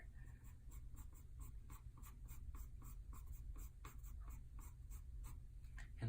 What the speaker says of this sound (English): all I'm doing is I'm just making lines